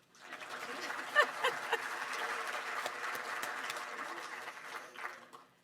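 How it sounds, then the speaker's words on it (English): An audience at the Palm Springs State of the City event claps steadily for several seconds, a broad soft wash of many hands heard from a distance that swells and then fades out. "Now you can clap."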